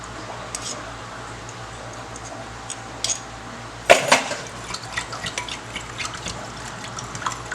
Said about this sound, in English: Mix that up well.